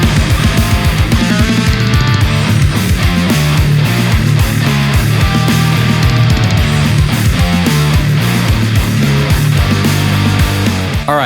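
A heavy metal track plays loud and dense, with chugging distorted guitars and pounding drums driving a steady rhythm throughout.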